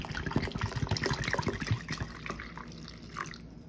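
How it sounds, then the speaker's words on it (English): Water being poured into an MRE food pouch gives a steady close splashing and trickling stream that fades slightly toward the end, with no talk. "Get some water in here."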